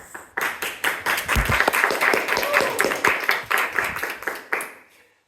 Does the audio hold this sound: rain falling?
no